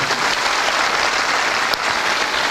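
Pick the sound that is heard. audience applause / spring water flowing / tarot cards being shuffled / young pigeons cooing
audience applause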